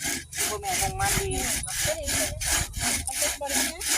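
A hand saw cuts through wood to make a tool handle, steady back-and-forth strokes repeating in a regular rhythm, close and fairly loud with a rasping scrape on each pass.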